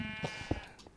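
Sheep bleat in the Minecraft video game, a few short nasal bleats sounding close over a steady background tone and faint game noise.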